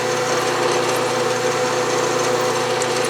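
A drill bores a deep exhaust passage hole in a part for a Stuart Progress steam engine, a steady motor whine and hum running continuously and fairly loud, with no voices.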